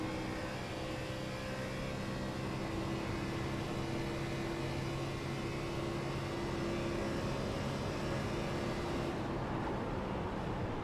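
Steady, continuous droning hum of a race car engine heard from onboard in the iRacing sim, constant and unbroken with a slight drop in the high end near the end.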